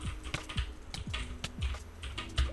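Fast, clacky typing on a G-Lab Keyz Carbon 2 mechanical keyboard, with a rapid irregular run of sharp keystrokes heard up close over a low background hum.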